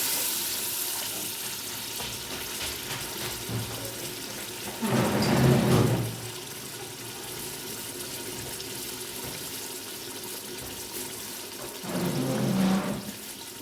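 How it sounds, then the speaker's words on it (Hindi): Two glasses of water poured into a pot of matar gosht, heard as two separate splashing pours of about a second each, several seconds apart, over a low steady background hiss. "मैं ये वाले 2 गिलास डाल रही हूँ पानी के इसके अंदर।"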